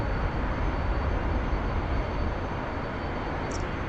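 An F-15EX jet in the DCS video game rolls for takeoff with afterburners lit, a loud, dense, unbroken roar that holds steady throughout.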